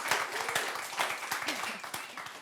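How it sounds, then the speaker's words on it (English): Live studio audience applauding during a talk show session, a fairly quiet patter of individual claps from a small crowd, with distinct hand strikes audible. "applaud yourself"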